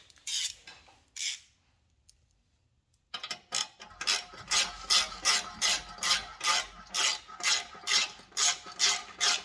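An 8mm Allen key tightening an exhaust bolt on a 2021 Kawasaki ZX10R fitted with an Arrow titanium exhaust: a few scattered metallic clicks, a pause, then a steady run of rhythmic ratcheting clicks, close and crisp.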